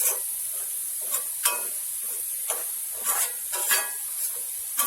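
Gram flour (besan) for halwa roasting in a pan: a constant soft sizzle hisses beneath intermittent scraping and stirring strokes of a spoon, close up and with no voices.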